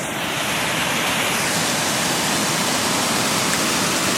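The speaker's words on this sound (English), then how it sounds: "we've got the main waterfall here" Ashgill Force waterfall pours in a steady, full broadband roar, loud and unbroken, with no voices over it.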